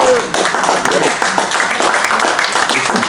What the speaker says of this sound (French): Rosemary David, on l'applaudit